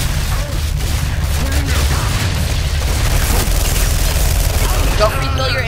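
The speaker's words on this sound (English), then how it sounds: "Shotgun." Shotgun blasts and other gunfire boom through a multiplayer match of the video game F.E.A.R. 3, with rapid bursts over a heavy low rumble and players' voices talking throughout.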